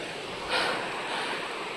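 Steady broadband rush of a river flowing near a campsite at Jozankei, fairly close, with a brief swell of louder noise partway through.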